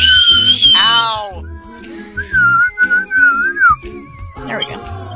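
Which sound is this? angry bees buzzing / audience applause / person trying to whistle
person trying to whistle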